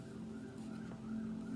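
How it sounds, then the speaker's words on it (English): Sirens wail somewhere outside, a steady tonal drone with slow rising and falling pitch that stays fairly constant and continuous for the whole moment, with no talking over it. "Do you hear these sirens out here?"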